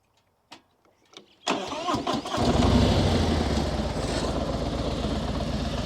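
A motorcycle engine starts after a few clicks and knocks, then settles into a loud, close, steady running idle with a rough rumbling tone.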